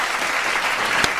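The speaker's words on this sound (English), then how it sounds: "let's give a round of applause." A brief, steady round of applause from a group, dense clapping heard on its own without voices.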